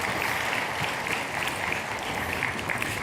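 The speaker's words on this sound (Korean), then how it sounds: "네, 다시 한번 큰 박수로 격려하겠습니다." A church congregation at a Sunday worship service applauding, dense and steady clapping from a large crowd filling the whole stretch at an even, loud level.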